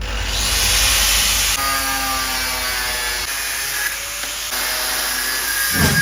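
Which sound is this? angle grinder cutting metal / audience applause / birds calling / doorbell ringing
angle grinder cutting metal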